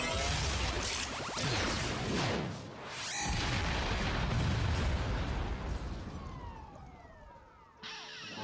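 Cartoon robots get blown up in a Johnny Test episode: loud, roaring blasts and rumbling booms with descending whistling tones, a sharp burst midway, then a falling whine that cuts off abruptly into a final hit.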